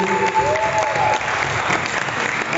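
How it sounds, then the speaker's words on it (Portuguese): A church youth service congregation applauds a guest pastor, a dense, close wash of clapping with a faint sustained musical tone underneath at the start. "Vocês aplaudam o homem que a gente vai chamar agora"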